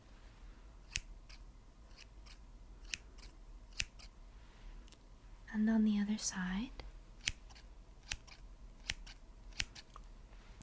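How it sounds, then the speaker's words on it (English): Sharp, crisp snips of scissors opening and closing repeatedly at an uneven pace, with a brief whispered voice in the middle. "it is a pair of scissors"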